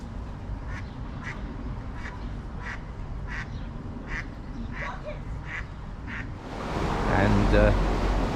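Ducks at a canal lock give a run of about ten evenly spaced, loud quacks, followed by rushing water as a narrowboat goes down the lock.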